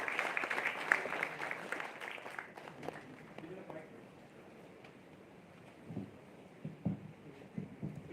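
An audience at an orientation ceremony claps in a round of applause, loud and dense at first, then thinning and fading into scattered claps and room noise.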